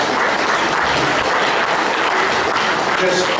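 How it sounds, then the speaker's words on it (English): Audience at a general meeting applauds, a dense continuous wash of clapping from a roomful of people, steady and fairly loud throughout, with some voices mixed in. "So I'd like you to give yourselves a round of applause."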